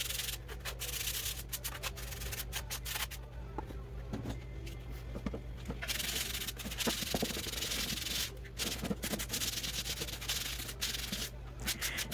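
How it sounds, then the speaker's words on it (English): Sanding of wooden drawers, a continuous close abrasive rubbing with irregular strokes and occasional small knocks throughout. "When I'm sanding this one"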